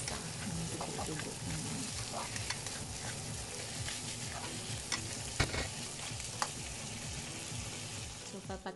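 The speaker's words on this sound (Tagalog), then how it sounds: "Haluin lang ng maayos hanggang sa mawala yung dugo" Meat for Filipino-style arroz valenciana is stirred in a hot pan, making continuous soft sizzling with frequent scraping and clacking of the utensil, at a moderate, even level.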